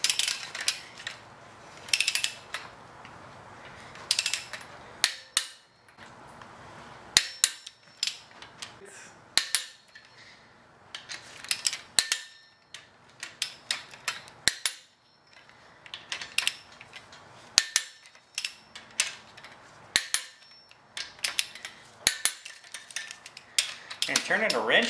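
A ratchet wrench tightens crankshaft bolts on the engine block of a 2007 Subaru Impreza 2.5i SOHC, giving repeated close bursts of crisp clicking separated by short pauses.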